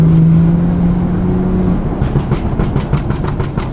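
BMW M2 exhaust held at 3,000 RPM in fourth gear gives a steady, droning note, then breaks into a rapid series of sharp crackling pops and bangs close to the microphone.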